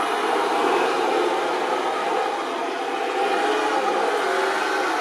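HG P602 Cougar 6x6 MRAP 1/12-scale military RC truck with its engine sound unit running in low gear: a steady, droning mechanical whir that holds an even level throughout, with no one talking.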